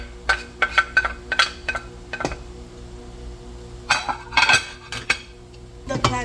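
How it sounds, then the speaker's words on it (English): Metal spoon scraping and clinking against a pot while Nigerian fried rice with rice spice, pepper and added ingredients is stirred, in bursts of sharp clanks separated by quieter pauses, close and fairly loud. "And now she's going to be stirring all the ingredients she added."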